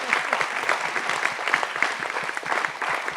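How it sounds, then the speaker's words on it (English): A conference audience gives a round of applause, a brisk and fairly close burst of many hands clapping with individual claps audible in a steady, unbroken patter. "a round of applause, please"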